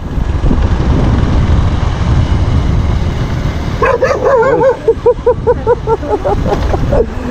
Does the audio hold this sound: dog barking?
yes